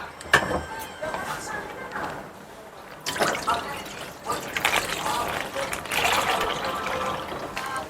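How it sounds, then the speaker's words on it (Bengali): Packaged milk poured into a large cooking pot in a home kitchen gives an irregular splashing, gurgling pour with a few clunks, close and moderately loud. "প্রথমে আমি দুধ কেটে দিয়ে দিচ্ছি।"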